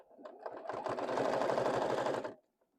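Sewing machine stitching fabric for a boxy bag with a zipper: one steady, close, continuous run of rapid needle strokes for about two seconds, then it stops abruptly.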